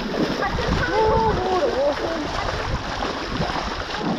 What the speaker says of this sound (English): Man, I love walking in the water.